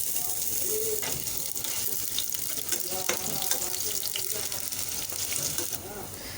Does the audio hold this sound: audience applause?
no